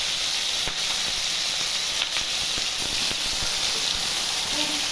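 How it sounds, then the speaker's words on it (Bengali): Tomatoes fry in hot oil seasoned with dried chilli, bay leaf, cumin and mustard seed, giving a steady, close hiss and sizzle with a few soft clicks and stirring knocks. "টমেটোগুলো ভালো করে ভেজে নেব।"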